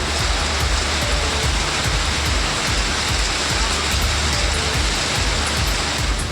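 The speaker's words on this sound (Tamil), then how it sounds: "காற்றுடன் பெய்த திடீர் மழையால்" Sudden heavy rain driven by strong wind beats down loudly and continuously, a thick roaring wash of drops close by with no speech.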